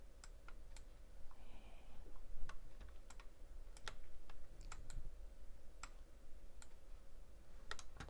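A computer keyboard is used for Ctrl+C and Ctrl+V shortcuts in Photoshop or Illustrator, giving sparse, faint, scattered key clicks over a low steady room hum.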